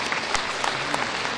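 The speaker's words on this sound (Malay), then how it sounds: "Berikan tepukan pada naib saya ni" Crowd applause at a political party launch event, a brief, dense burst of many people clapping, steady and moderately loud with a few sharper claps standing out.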